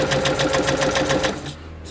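Sewing machine zigzag stitching through an old paper book page, a fast steady mechanical whir of rapid needle strokes, close and loud, slowing to a stop at the end.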